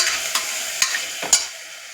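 A spoon drags three times through tomatoes and spices frying in oil for a bitter gourd curry, each scrape a distinct close stroke over a steady soft sizzle.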